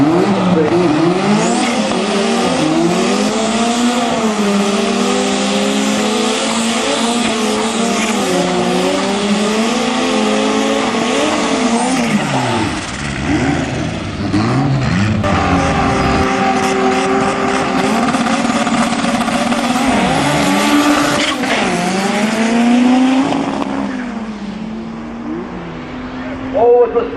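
Race cars roar at Tarlton Raceway, engines revving loud and close with shifting pitch, tyre squeal and passes, under continuous commentary from a speaker.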